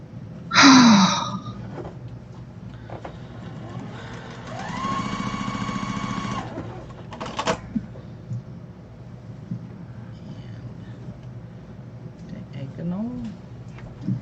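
A sewing machine joins two fabric pieces for a pillow or wall hanging, giving one steady motor run of a couple of seconds. People talk before and after it.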